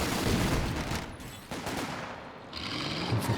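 Heavy DShK machine gun fire in a Company of Heroes 2 battle, rapid bursts crackling steadily at a moderate distance amid ongoing combat noise, with a brief lull midway before the firing resumes.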